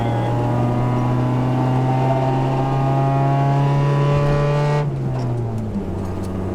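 A car engine holds a rising, strained drone while accelerating toward a corner, then the pitch drops abruptly as the throttle lifts for braking, loud and close with no speech.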